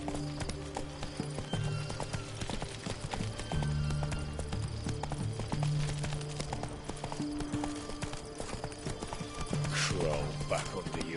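A horse gallops in The Witcher III, with steady rapid hoofbeats carried over a music bed and occasional game voices, loud and close throughout.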